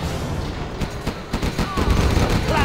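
Rapid bursts of gatling cannon fire in Command & Conquer: Generals, dense overlapping shots building in intensity over a few seconds, loud and close amid battle noise.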